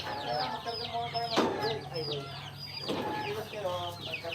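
Backyard chickens clucking and murmuring while being fed, several birds making overlapping calls with a couple of sharper squawks, close by and steady throughout.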